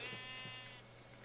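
Sheep in the video game Minecraft giving a single short bleat, close and clear, alone without talk.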